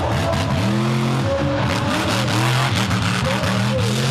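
Monster truck engine roaring at a full-house show at Charlotte Motor Speedway, a loud continuous rumble with rising and falling revs throughout.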